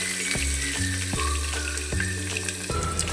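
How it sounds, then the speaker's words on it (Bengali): Chopped onion dropped into hot oil already frying whole cumin and garam masala spices, giving a steady close sizzle with stirring clatter throughout, and no talking. "এবার দিয়ে দেবো পেঁয়াজ কুচি"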